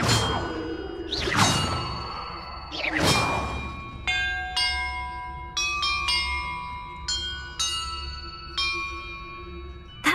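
Bells struck in Hogwarts Legacy during a bell-order puzzle: two low swelling clangs open, followed by a quick sequence of bright, ringing chimes at varied pitches that sustain and overlap, close and clear with no talk.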